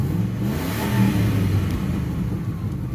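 The 4.6-liter V8 of a 2002 Ford Explorer revs up with a rising, throaty rumble, loud and close, held steady at elevated RPM before easing, with no talking.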